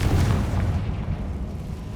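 A Confringo fire spell in Hogwarts Legacy lands with a loud, deep boom, a single close blast whose rumbling tail fades over about two seconds.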